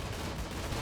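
Turret gunfire in a Rimworld colony defense against assaulting raiders, a dense continuous rattle of shots at steady loudness with no pauses, filling the whole moment.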